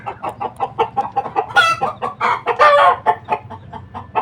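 Many chickens clucking steadily close by in coops, with a rooster's crow breaking through, a busy continuous farmyard chorus.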